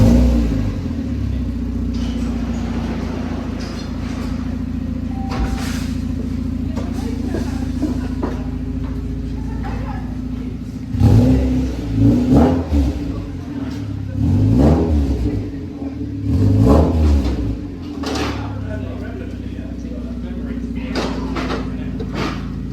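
Mazda MX5 with a new exhaust revving: a steady rumbling idle and then a burst of several sharp rev blips midway, moderately close, with people talking casually throughout.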